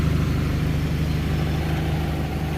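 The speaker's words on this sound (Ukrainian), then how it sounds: "Так от працює у нас двигун." A 2019 Jeep Compass Limited 4x4 with a 2.4 MultiAir engine idles steadily nearby, a low continuous rumble with an even throb and no voices.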